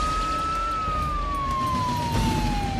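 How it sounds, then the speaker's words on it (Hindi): A police siren plays from a mobile phone speaker, one steady sweeping wail that slowly falls in pitch, close and continuous over a low background rumble with no talk. "मैंने अपने मोबाइल से पुलिस की सायरन बजाई"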